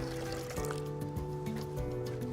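Water pours and trickles into a mixing bucket as the first step in mixing BASF MasterEmaco N425 repair mortar. The liquid sound is soft and continuous, with a steady background hum.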